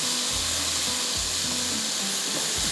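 Tomatoes and onions fry in a pan with a steady broadband sizzle, broken by a few low knocks and scrapes of stirring, close and continuous throughout with no talk.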